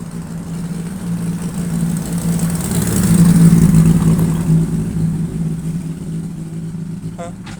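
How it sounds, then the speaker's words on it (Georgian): A car engine drones steadily, growing louder toward the middle as the vehicle approaches, then easing off slightly, with people talking nearby. "მანქანა მოდის ხალხო."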